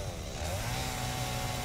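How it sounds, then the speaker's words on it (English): A chainsaw cuts down trees in the video game Satisfactory, a steady, buzzing engine drone that holds at an even level throughout. "the chainsaw works in like an area of effect kind of thing"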